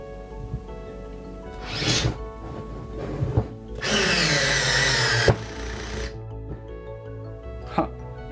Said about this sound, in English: I'm drilling inside of already done drilled hole